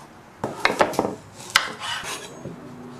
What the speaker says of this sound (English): slicing up the carrots